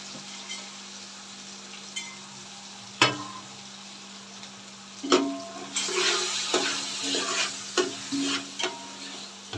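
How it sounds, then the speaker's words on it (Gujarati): Garlic, ginger and chili roast in ghee for a Rajasthani dal bati, a steady low sizzle broken by sharp scraping stirs and clinks of a spoon against the pan. "જ્યાં સુધી આમાં ઘી છૂટું ના પડે ત્યાં સુધી આપણે એને શેકવાનું."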